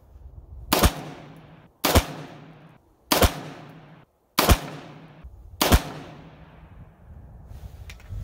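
Primary Arms FM9 9mm carbine with a 5-inch barrel and blast diffuser firing American Eagle 147 grain flat point rounds, five loud, sharp shots spaced about a second apart with short echoing tails outdoors.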